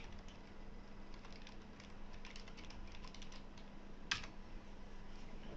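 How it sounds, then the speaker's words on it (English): Quick, quiet keystrokes patter on a computer keyboard as a command is typed into a console, a close, steady run of light clicks over faint background hum, with one sharper tap near the end. "I'm going to go ahead and go into console and type harmonograph."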